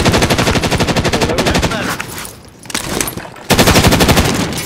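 Rapid automatic gunfire in a video game, a loud, dense machine-gun rattle of evenly spaced shots. It pauses briefly in the middle, then resumes at full volume.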